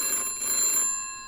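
A telephone ringing in the video game In The Pause Between the Ringing, one bright electronic ring burst with a metallic bell-like tone, heard alone, followed by a brief fading tail.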